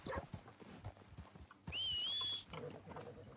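Horse hooves clip-clopping in the video game Red Dead Redemption 2, a quiet run of steps over a game soundscape with a brief whistling tone in the middle.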